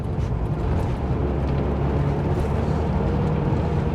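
A 1986 Porsche 944 engine under hard acceleration through the gears, a dense, loud, continuous engine drone heard close from inside the car.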